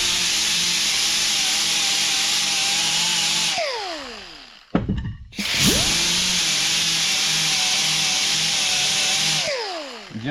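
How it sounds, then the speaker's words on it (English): A power sanding pad grinds against the edges of small metal parts, a loud steady high whine that cuts out briefly near the middle, with a sharp scraping burst as it restarts, then runs on and winds down near the end. "we're just going to take a sanding pad and touch these guys up a little bit"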